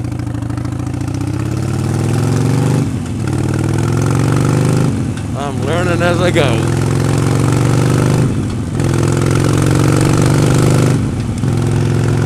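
A Harley-Davidson Sportster 72 motorcycle idles with a steady, close, low rumble that stays constant throughout, while someone talks over it.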